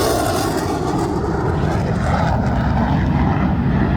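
Jet aircraft roaring overhead at an airshow, a loud, steady, continuous rumble filling the whole stretch with no break.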